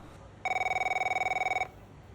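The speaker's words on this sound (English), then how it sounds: "as now we get a phone call from Devon Butler" A phone rings in the F1 23 Braking Point 2 story mode: one clear burst of rapid, trilling electronic ringing lasts a little over a second, loud and close against quiet surroundings.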